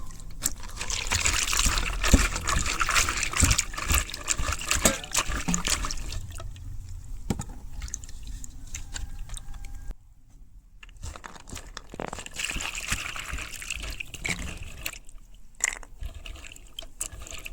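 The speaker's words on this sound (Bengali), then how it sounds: "এটা আমি দুই তিনবার করে জল দিয়ে পরিষ্কার করিলাম" Jackfruit seeds rinsed in water by hand: steady splashing, trickling and sloshing with crinkly rubbing of the seeds, close and continuous with brief pauses.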